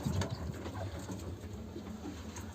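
Quails in their cage give soft, faint chirps and small rustling sounds close by over a quiet low hum.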